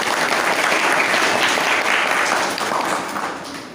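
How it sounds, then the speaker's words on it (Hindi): Steady, dense applause from a church audience at a Hindi Bible study gathering, many hands clapping together at an even loudness for several seconds before easing off slightly near the end. "ताली बजाइए भाई के लिए"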